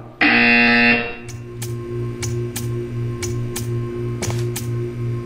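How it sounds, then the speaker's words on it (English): A loud electronic buzzer in the Thinking with Portals game sounds once for about a second, followed by a steady low hum with regular ticking clicks. "When you hear the buzzer, stare at the art."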